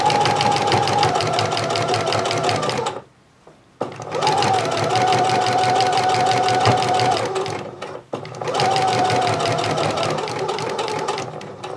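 A sewing machine understitches a seam on homemade shorts, running in three fast, rhythmic bursts separated by short pauses, close and clear.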